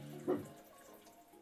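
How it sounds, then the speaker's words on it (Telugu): A short splash of water is poured into a pot of tribal wild-flower curry, one quick gurgling burst followed by quiet kitchen background. "కొద్దిగా వాటర్ వేసుకొని ఒక 5 నిమిషాలు"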